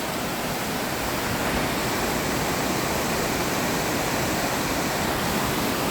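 Steady, loud rushing water from a river fills the whole clip, a constant dense roar like fast flow, with no voices.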